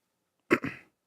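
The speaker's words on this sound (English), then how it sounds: "Sorry, little cough." A single short cough, close and fairly quiet, made of two quick bursts with a trailing breathy tail, heard alone with no talking around it.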